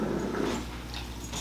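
Moonshine, a compact bully dog, gives a low, close growl that rumbles continuously for about a second and a half.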